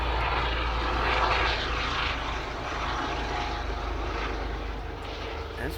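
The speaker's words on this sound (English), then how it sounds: "It sounds like a helicopter or something around here." A helicopter flying overhead, with a continuous, fairly loud low rotor and engine drone that holds steady throughout, with no talking.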